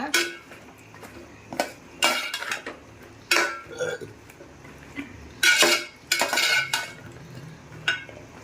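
Broad beans sautéing in oil in a pan are stirred with a metal spoon, giving a series of irregular scraping clinks and knocks against the pan, close and moderately loud, with no talk.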